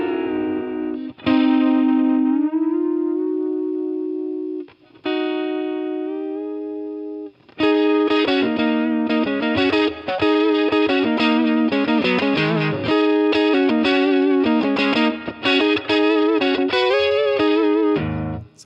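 An electric guitar through a Line 6 Catalyst amp with a harmonizing pitch effect plays a few held, doubled notes with pauses, then breaks into a busy, fast run of layered, distorted notes.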